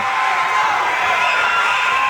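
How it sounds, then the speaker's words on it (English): A wrestling crowd at a live show in Forney, Texas cheers and shouts loudly and steadily, a dense wall of voices with no single speaker standing out. "The crowd egging it on."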